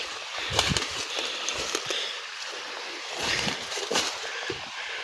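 Natural mountain water gushes from a pipe into an avocado orchard, a steady close splashing rush with bursts of sloshing throughout.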